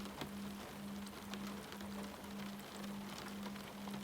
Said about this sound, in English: The rain is the same, steady,